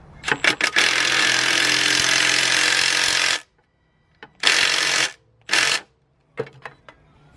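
A powered driver zaps a riv nut into metal on an AWD Honda CRX, one long buzzing run of about three seconds followed by two shorter bursts and a few small clicks.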